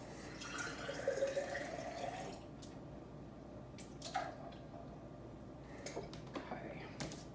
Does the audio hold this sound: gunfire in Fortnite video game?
no